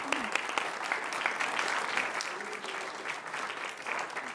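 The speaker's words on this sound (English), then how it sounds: "I think all of those comments deserve a huge round of applause." Audience applause fills a public meeting room in Miami Beach, a steady, dense clapping that holds at even strength for several seconds with no one speaking over it.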